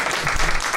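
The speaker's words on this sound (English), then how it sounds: "can we give a round of applause to our superintendent?" Audience applause at a chamber of commerce legislative roundtable luncheon, a brief burst of dense, fairly loud clapping from a room of guests honouring a superintendent.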